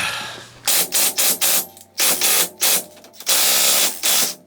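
A power tool with a socket working on stuck 1 1/4 nuts while installing ball joints on a Polaris: loud, close bursts of rattling impact whirring in short repeated pulses, then a longer run, with no talking.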